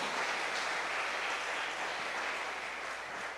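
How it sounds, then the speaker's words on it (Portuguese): Steady applause from a church congregation fills the whole stretch, a dense even wash of clapping with no clear voices on top. "Dê um forte aplauso a Jesus"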